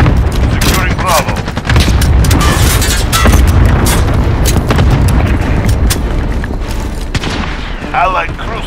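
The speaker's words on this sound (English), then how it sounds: "Allied cluster strike inbound." Cluster strike explosions in Call of Duty: Modern Warfare, a loud barrage of booming blasts mixed with gunfire and battle chatter, dense and continuous throughout.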